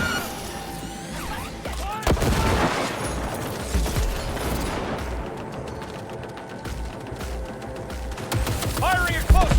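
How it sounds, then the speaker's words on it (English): Close-range gunfire in Cyberpunk 2077 rips out as loud, dense bursts of rapid shots and impacts, with heavy crashes and intermittent voices over the din. "Firing at close range."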